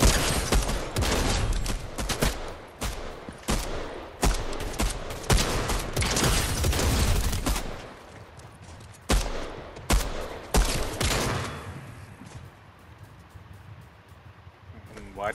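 Rapid gunfire in a Fortnite match, with dense bursts of automatic shots and single cracks rattling for several seconds, then easing into scattered shots and quieter ambience near the end.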